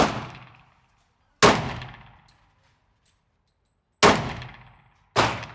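Three loud pistol shots from a Smith & Wesson M&P 10mm, each crack ringing off steel targets with a bright metallic clang that decays slowly, the shots spaced irregularly across an otherwise quiet outdoor range.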